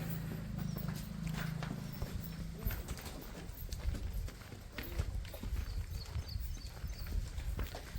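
A village cow walks out to drink water, its hooves clopping steadily on the ground at close range, with a low hum at first and faint voices in the background.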